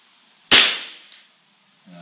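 A single sharp crack from a Vudoo V22 Ridgeback rimfire rifle fired at a 50 yard target, loud and close, with a short decaying tail and a faint knock just after.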